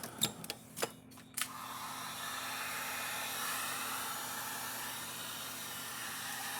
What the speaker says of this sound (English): you'll get the heat gun and heat the heat shrink up before it slides where it doesn't need to slide to